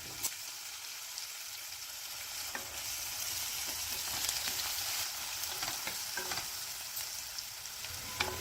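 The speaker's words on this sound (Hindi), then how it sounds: "अब डाल देते हैं बारीक कटा हुआ प्याज।" Continuous sizzling of finely chopped onions frying in ghee in a pan, with scattered crackles and occasional stirring sounds, close and steady throughout.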